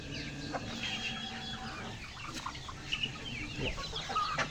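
Hens and a rooster cluck in a rural province yard, soft scattered clucks and calls at mid distance, with no one talking.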